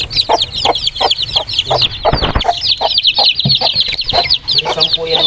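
Around ten three-week-old chicks cheep and peep constantly up close in a high, busy chorus, with a few low thumps and rustles beneath.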